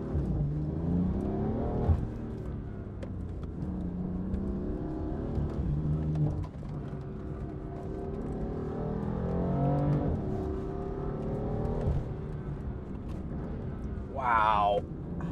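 A 550hp Dinan BMW M4 engine revs and pulls hard through rising and falling pitches, loud inside the cabin, with brief shifts between surges.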